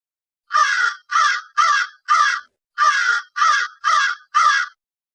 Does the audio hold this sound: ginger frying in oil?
no